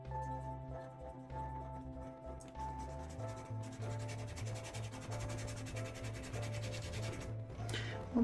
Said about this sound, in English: I'm scrubbing.